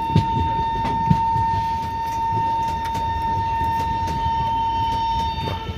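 An EMD diesel locomotive in a railway yard gives a loud, steady engine drone with a sustained tonal hum running throughout, and a few short clanks and knocks rise briefly over the drone.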